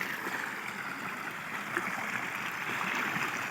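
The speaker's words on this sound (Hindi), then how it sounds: "कितना झरना सोहना बह रहा" A waterfall flowing in Samani valley, Azad Kashmir, gives a steady, continuous rush of water that holds at an even level from start to end with no talk.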